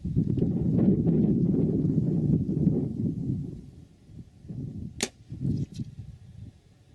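An arrow from a recurve bow pops a balloon 200 yards away, a single sharp, faint snap heard after a long stretch of gusty outdoor wind rumble.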